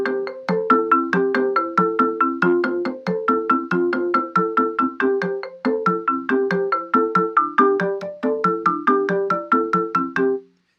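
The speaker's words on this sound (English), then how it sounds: "I'm going to go ahead and play through Taireva with a little conga in it." The traditional Zimbabwean song Taireva, built in the Song Maker web tool, plays with a conga part: a bright, even stream of plucked synthetic notes in a repeating melodic pattern over regular percussive hits, steady and clear with no voices.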